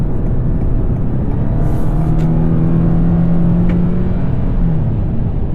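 A Toyota Crown with a 3.5-litre V6 pulls hard on an uphill Japanese expressway, giving a loud, steady engine drone with a rising tone and constant road and wind roar throughout.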